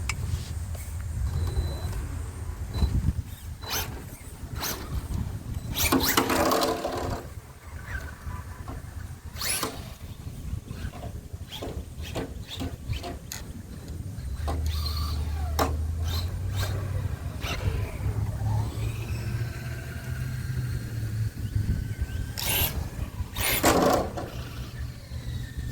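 An RC drag Slash truck runs back and forth to warm up its tires, its motor whining in repeated short bursts with a steady low hum between them, near and fairly loud, over about twenty-five seconds.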